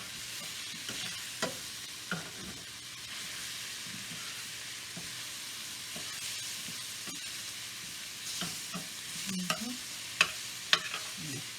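Italian sausage fries in a pan under a soft, steady sizzle while a utensil stirs it now and then, with scattered scrapes and clinks that grow sharper near the end. It sounds quiet and close.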